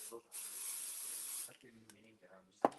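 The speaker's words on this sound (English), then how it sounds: "I'm going to pixie spray this" A pixie spray is misted from a spray bottle in one long, steady hiss lasting just over a second, followed by short bursts of nearby talking and a brief sharp knock at the end.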